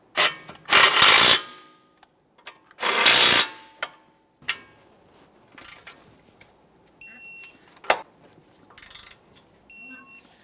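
Brake caliper bolts are snugged up on a 2015-2019 Subaru Outback during a front brake job, with two loud bursts of tool noise close by, then scattered clicks, taps and a short electronic beep.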